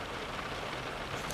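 Heavy rain pouring down in a steady, dense hiss of drops striking surfaces, close and loud, continuous with no talk over it.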